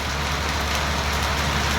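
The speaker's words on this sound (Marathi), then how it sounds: "उन्हाळी अवकाळी पाऊस." Unseasonal summer rain falls in a village, a steady close hiss of drops and surface patter running unbroken with no voices.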